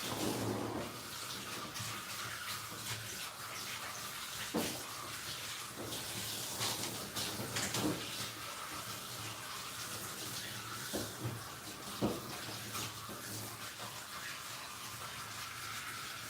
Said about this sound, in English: make sure your rinsing is really, really good.